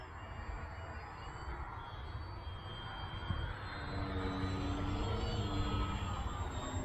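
An FT Scout RC airplane cruises inverted, its electric motor giving a steady, moderately loud buzzing drone that swells slightly as it passes.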